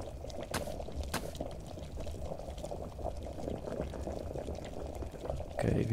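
Wort bubbling at a steady rolling boil inside the brewing game Brewpub Simulator, a continuous dense churning texture with a brief louder surge near the end.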